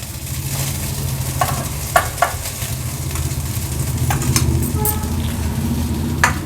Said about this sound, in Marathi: आता ह्यातला मी अर्धा भात ह्या कढईत घालून घेते।